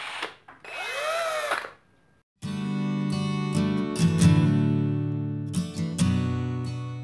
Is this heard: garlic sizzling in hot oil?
no